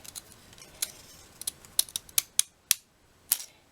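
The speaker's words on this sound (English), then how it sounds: "you can do this with the Rick Rack scissors. I call them Rick Rack or pinking shears" Pinking shears cut through paper in a string of sharp, crisp snips at an uneven pace, close and clear against a quiet room.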